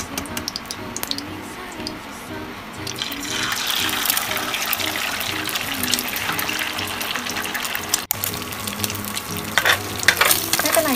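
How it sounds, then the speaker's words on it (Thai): Eggs frying in heated oil in a pan, with continuous crackling sizzle that grows brighter and louder midway, alongside light clinks and some faint background noise. "การทำอาหารเลยใส่น้ำมันทอดไข่ โอ้แม่เจ้าเดี๋ยวเราวอร์มน้ำมันก่อน"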